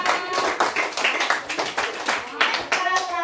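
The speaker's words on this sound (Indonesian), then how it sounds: "Tepuk tangan untuk Esa" Children clap their hands in a classroom in a quick, uneven burst of claps. Young voices chatter over the clapping.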